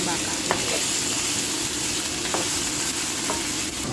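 Beef frying in oil with garlic and onion for a beef curry, giving a loud, steady, close sizzle with a few faint stirring clicks.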